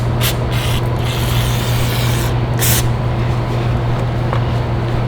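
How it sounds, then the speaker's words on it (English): Cleaner is sprayed onto a car's brake caliper in short hissing bursts, three or four close, loud spurts over a constant low hum, with no talking. "we're gonna spray down the caliper and then just kind of clean it all up"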